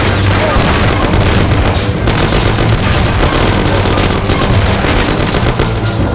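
Loud, dense gunfire and booming explosions from a shootout in the video game Mafia, with rapid bursts of shots running continuously throughout under a heavy, roaring mix.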